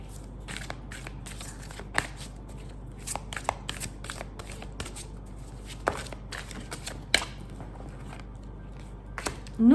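Belline oracle cards shuffled by hand in a run of crisp, irregular riffling snaps and soft card slaps, close and fairly quiet, with brief louder flicks scattered through.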